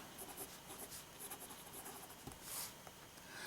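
A fountain pen with a number 6 Jowo nib scratches across paper in soft, faint, irregular strokes. The scratching is quiet and continuous against low background hiss.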